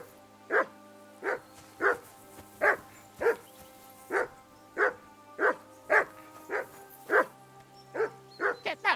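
A dog barks repeatedly in the video game Kingdom Come: Deliverance II, with evenly spaced, loud single barks that speed up toward the end over a low ambient hum.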